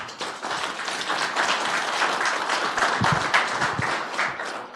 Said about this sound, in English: we get a round of applause from everybody.